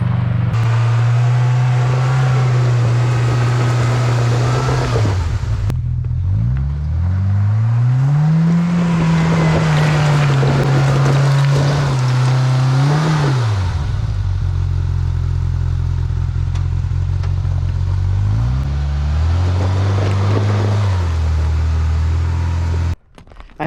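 Kawasaki KRX and Polaris Pro R UTVs climbing a rocky desert hill, engines droning and revving up and down in repeated surges with clattering over rocks, loud and close, ending abruptly.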